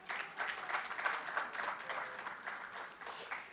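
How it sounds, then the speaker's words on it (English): Applause from a conference audience welcoming a panelist on her birthday, a steady wash of moderate clapping that holds for a few seconds with slight swells. "so a round of applause"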